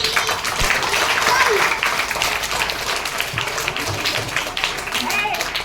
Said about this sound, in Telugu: సెవెంత్ క్లాస్ క్లాప్ చేయండి గట్టిగా